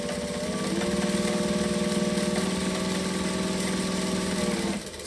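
A sewing machine stitches a tote bag at speed, a steady droning hum with a rapid mechanical chatter that runs evenly for several seconds, then stops abruptly near the end.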